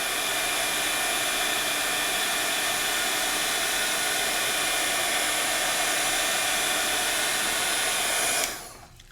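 A heat embossing tool blows hot air in a steady, loud, close whir that runs unbroken for about eight seconds, then cuts off as the tool is switched off.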